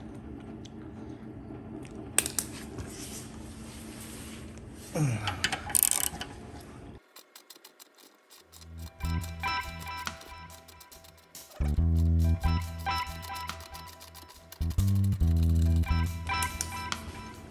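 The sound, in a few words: driving a screw in with a 5mm tool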